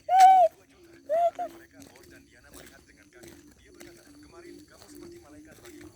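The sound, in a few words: bird sound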